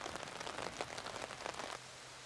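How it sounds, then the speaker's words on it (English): Rain falling with wind on an outdoor disc golf course during a final round, a soft, steady patter of drops that is faint and brief and fades out near the end. "With the rain and wind"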